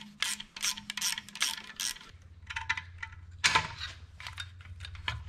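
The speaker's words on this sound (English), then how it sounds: "using two 10mm wrenches, you can get this coil box off" Two 10mm wrenches work bolts loose on the coil box of a BMW K1200 motorcycle, giving quick metallic clicks and ratcheting bursts up close in short clusters, with a brief clank near the middle and no talking.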